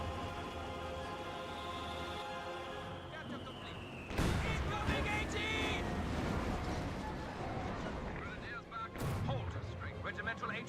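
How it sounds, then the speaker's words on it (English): 120mm mortars fire in Company of Heroes 2, with two heavy blasts standing out amid ongoing battle noise. A commentator talks over the explosions the whole time. "Then 120mm mortars. Starting to hit the Wagenwerfer."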